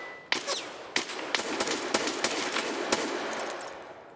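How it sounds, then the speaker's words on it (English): Gunfire in Escape from Tarkov down a hallway: a burst of about ten sharp, loud shots in uneven rapid succession, close and echoing, with no talk. "Shots down the hallway."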